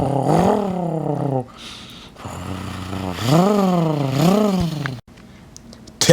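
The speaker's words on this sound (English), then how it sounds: "Mitsubishi, start your engines." A toy Mitsubishi car engine sound effect revs in rising and falling roars, loud and close, in several bursts with short breaks between.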